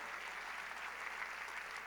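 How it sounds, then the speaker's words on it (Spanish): Applause comes from a church congregation as a dense, even wash of clapping that holds steady for the short stretch at moderate distance. "Aplauda, aplauda."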